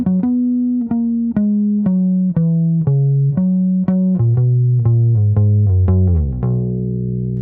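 Electric bass plays a four-bar line alone, with a dozen or so plucked notes in a steady, walking rhythm that outline the chords, close and prominent, ending on a held low note.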